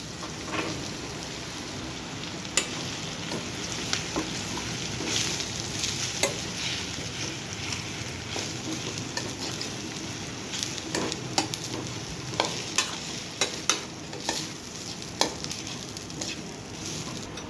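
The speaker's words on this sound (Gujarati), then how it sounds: "રોટલીનો ભૂકો એક કરી દેવાનો" Crumbled roti being stirred into a hot Gujarati tempering of cumin, asafoetida, onion, chilli and tomato in a pan, giving a steady soft sizzle with scattered scraping and clinking spoon strokes throughout.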